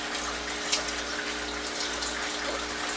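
A MarineLand Penguin 350 Bio-Wheel aquarium filter runs with water pouring and splashing, a continuous, fairly loud rushing flow heard up close with no talking.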